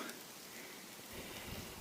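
Steady rain falls outdoors in a forest during mushroom gathering, a constant close hiss of drops with a few heavier patters toward the end.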